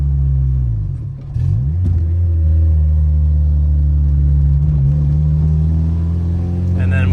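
A Honda race car engine idles with a deep, steady rumble, then revs with rising mid-range tone that swells and settles, loud and close throughout with no one speaking.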